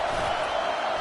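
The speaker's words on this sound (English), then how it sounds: "Man, this crowd really affecting the football game." A home crowd at a football game roars as a steady, dense wash of voices and cheering, loud and continuous with no individual voice standing out.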